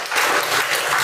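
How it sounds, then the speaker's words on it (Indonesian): A classroom of students claps for a presenting group, a short burst of dense, lively applause that holds steady to the end. "tepuk tangan dulu untuk kelompok 2."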